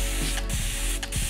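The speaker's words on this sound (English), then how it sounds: "I'm gonna use the spray bottle to start off with wetting the hair." Two quick pumps of a spray bottle mist water onto hair, each a short close hiss with a slight click, spaced about half a second apart.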